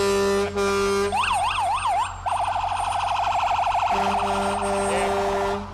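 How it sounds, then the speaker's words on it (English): A Shepherd Volunteer Fire Department fire truck at a 2018 holiday parade sounds its loud, steady air horn, broken by rising-and-falling siren wails before the horn returns. It is close and dominant throughout, with no talking. "The Shepherd Volunteer Fire Department is very proud of their horn."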